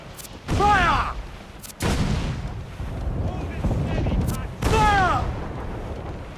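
Ship cannons fire in a naval battle video game, with heavy booming blasts rolling out beneath loud, repeated shouting voices.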